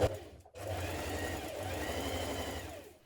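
A sewing machine runs steadily at close range, stitching darts on dress lining pieces, with a short pause near the start and a few seconds of continuous whirring. A voice speaks briefly at the very beginning.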